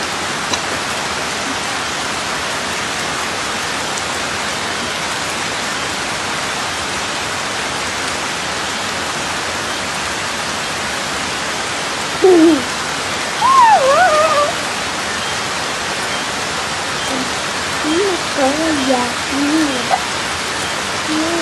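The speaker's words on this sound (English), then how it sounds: "Rain, heavy rain coming in now." Heavy rain during Hurricane Melissa in Jamaica, a steady loud roar of downpour throughout, with a few faint distant voices breaking through in the second half.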